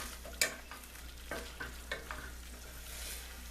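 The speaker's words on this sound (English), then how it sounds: "When you deglaze with wine, deglaze the pan to get all the flavor out of it" Wine-deglazed pan of fava beans and potatoes sizzles with a steady broadband hiss, broken by a few sharp utensil scrapes and clinks, with a low hum underneath and no voices.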